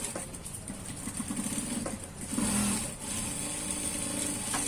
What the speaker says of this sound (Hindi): इसके ऊपर से लगाएंगे ये वाली सिलाई